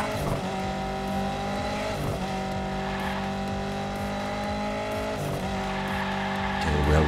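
A COPO Camaro races in Hot Wheels Unleashed, its engine holding a steady high whine with gear-like pitch steps and brief tire squeals across the run, loud and continuous.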